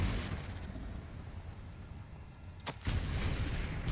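A Confringo spell in the Hogwarts Legacy video game bursts with a deep, loud, rumbling explosion that fills the clip, followed by a second sharp blast near the end.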